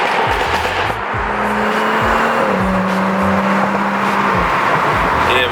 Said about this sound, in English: we throw some pops in the tunnel